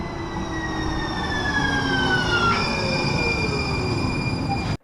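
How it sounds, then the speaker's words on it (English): A San Francisco light rail train rolls along with a steady rumble while high, drawn-out wheel squeals slide in pitch, then the sound cuts off. "We jump back on the train to retrace our steps to the portal."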